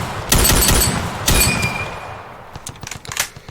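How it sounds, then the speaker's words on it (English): Gunfire in the Ravenfield video game: two loud, close bursts of rapid automatic shots, followed by a scatter of fainter, more distant cracks and pops. "So I'm getting shot at from over here."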